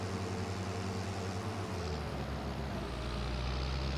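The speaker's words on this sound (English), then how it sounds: "Don't you guys hate that noise of electric cars that they are making?" A steady electric car whine in Farming Simulator 25 with a rising tonal hum grows slightly louder as it passes, over a dense engine-like rumble.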